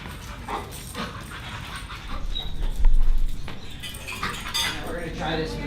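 A leash-reactive dog pants and whimpers close by amid clattering, metallic background noise, while people talk.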